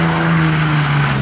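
A modified RC drift car spins out, its tires squealing in one sustained, loud, close skid with a steady tonal whine.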